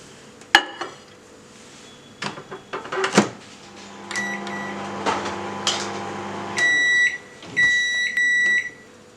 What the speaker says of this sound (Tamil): இப்போ இது வந்து மைக்ரோவேவில் ஒரு 1 மினிட் நான் வைக்கிறேன்.